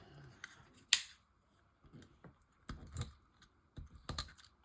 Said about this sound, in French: Du scotch.